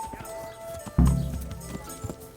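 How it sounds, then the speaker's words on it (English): Horse hooves in Kingdom Come: Deliverance, a few soft clip-clop steps followed by a sudden heavy thump and trailing rumble, close and brief. "Horse."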